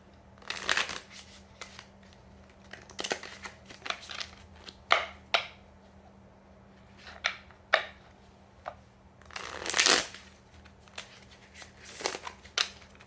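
A deck of playing cards is shuffled repeatedly in bursts of riffling and flicking, close by, with quiet pauses between and a faint steady hum underneath.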